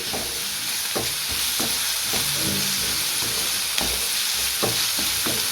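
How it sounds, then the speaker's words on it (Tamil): Onions sauté in a pan for potato samosa filling, giving a constant sizzle with scraping stir strokes at irregular intervals, close and fairly loud, with no voices. "வெங்காயம் நல்லா வதங்கி வந்துருச்சு"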